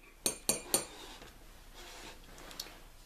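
A metal spoon scoops chocolate and vanilla for coffee, tapping a container three times in quick, bright clinks, followed a moment later by one fainter tap.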